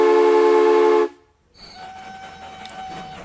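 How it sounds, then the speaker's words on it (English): A train arriving in the video game Transport Fever 2, with UK mods, sounds a loud, steady horn that stops abruptly, then a softer rolling rumble of the train follows. "As this train makes its way in"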